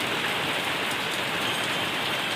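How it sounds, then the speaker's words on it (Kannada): Morning rain pouring steadily in a village, a constant close hiss of drops striking surfaces with no pauses. "ಮುಂಜಾನೆ ನೋಡ್ರಿ ಮಳೆ ಹ್ಯಾಂಗೆ ಬಿಟ್ಟದಂತೇಳಿ"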